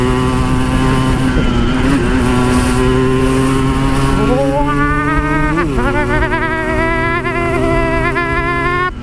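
Yamaha RX King two-stroke motorcycle being ridden, its engine buzzing loud and close with clear revving rises and gear changes over steady road noise.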